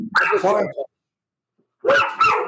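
Two loud bursts of close barking from dogs reacting to a doorbell, a short pause of silence between them, each burst a rapid flurry of barks.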